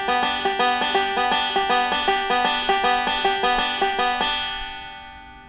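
A bluegrass banjo picks a steady 5-2-1 forward roll, bright twangy notes in a quick even rhythm that stop and ring out at the end, with no talk.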